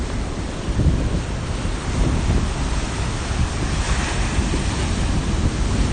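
Ocean surf washing onto a beach on a rainy day, a loud continuous roar of breaking waves with gusty wind buffeting the microphone, swelling and easing over several seconds, no voices.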